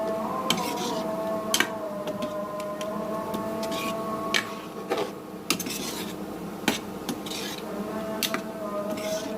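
A spoon stirs moong dal with egg in a cooking pot, making faint, irregular metallic scrapes and clinks over a steady low kitchen hum, with quiet talk now and then.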